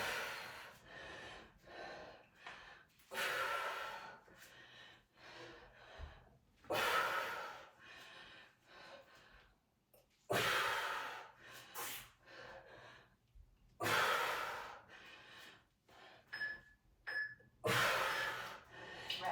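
Heavy breathing in and out during a kettlebell and bodyweight lunge-and-squat workout, with sharp inhales and forceful exhales in an uneven rhythm, close and fairly loud.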